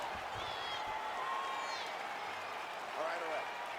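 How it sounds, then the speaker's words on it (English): An MMA arena crowd claps and murmurs steadily as a round of grappling ends, forming a dense background roar under a commentator's voice. "The crowd is appreciating the high-level grappling exchanges that they just experienced."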